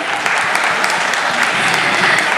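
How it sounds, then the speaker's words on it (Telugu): An audience at a Makar Sankranti community celebration breaks into loud, dense applause that holds steady throughout, with no talking over it. "సో ఒక గట్టి చప్పట్లు మీ అందరికీ"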